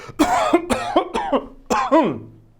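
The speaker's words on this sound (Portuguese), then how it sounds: "Tosse." A person coughs repeatedly, about five harsh, throaty bursts in quick succession, close and loud, the last one drawn out.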